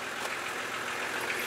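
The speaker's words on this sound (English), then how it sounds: "You just started up on veggie oil." A diesel school bus engine idles on veggie oil, a steady close rumbling drone with a dense, even texture and no talking.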